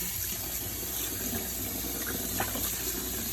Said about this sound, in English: Let the water run clear.